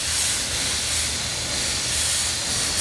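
Airbrush spraying paint onto a t-shirt gives a steady, close, airy hiss that swells and eases slightly as individual strokes are made.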